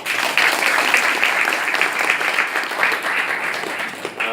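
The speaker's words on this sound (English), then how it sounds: "we have to give an applause to them" Applause from a seminar audience of Indonesian students in Pakistan, a dense, steady wash of clapping sustained for several seconds before tapering slightly at the end.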